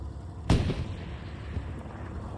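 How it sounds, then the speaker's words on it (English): A single heavy tank-gun blast in the World War II game Hell Let Loose, loud and sharp. It rolls into a low rumbling decay that lasts about a second, then fades into steady background noise. "Oh, shots coming in."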